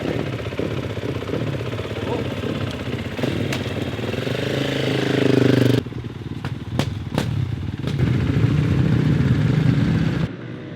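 Supermoto motorcycles rev and rumble as they head out onto the track at Brissac in southern France, several engines close by with rising throttle blips and sharp cutoffs, staying loud throughout.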